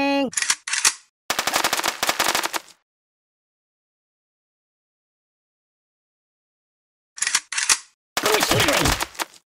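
Rapid bursts of gunfire from weapons in the Kick The Buddy video game, loud and close, in two clusters separated by a long silent gap.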